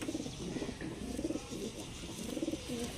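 Andhra pigeons coo indoors in repeated low, rolling phrases, one after another, fairly quiet and close, with a soft hiss in the background.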